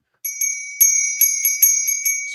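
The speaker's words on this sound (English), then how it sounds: "I think we need some spoiler bell so we can get into it." A bright spoiler-alert bell rung repeatedly, about seven clear metallic dings at a slow, steady pace, close and loud with ringing tails, no talking.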